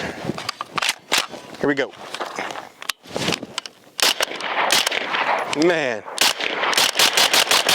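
Suppressed gunshots from a Springfield Armory Hellion bullpup rifle, a string of sharp cracks in quick bursts, close and loud, with someone talking between shots.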